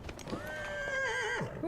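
A horse in the fantasy role-playing game Dragon Age: Inquisition gives a single close, clear whinny lasting over a second, with faint hoof clip-clop beneath and no talking.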